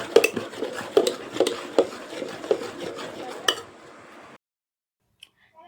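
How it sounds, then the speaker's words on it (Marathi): A spoon scrapes and clinks around a bowl while dosa batter made from ration rice is stirred with water, giving a steady, close run of knocks and swishes that stops abruptly near the end. "पाणी टाकून मिक्स करून घेऊ चम्मचनं मस्त मिक्स करून घेऊ"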